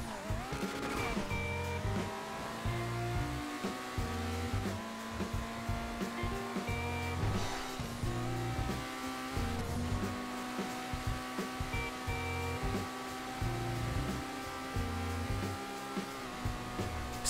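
The Overflod Autarch supercar in GTA 5 Online holds a loud, continuous high-revving engine drone. Its pitch rises and dips with gear changes and throttle, and no one speaks.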